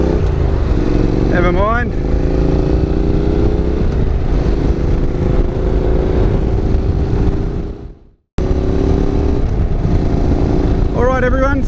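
Honda NC750X motorcycle cruising through traffic with a steady, loud engine drone and wind rush throughout, a brief dropout near the end, and someone talking over it.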